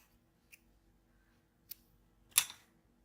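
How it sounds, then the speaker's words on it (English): Scissors snip crochet thread in a quiet room, giving a few short, sharp clicks spaced apart, with the last and loudest cut near the end. "yarn over once and tighten the knot like so and cut thread"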